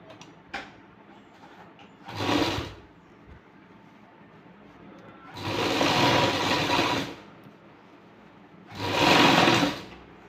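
A sewing machine stitching fabric runs in three short bursts of steady whirring, each one to two seconds long, separated by quiet pauses with faint handling noise.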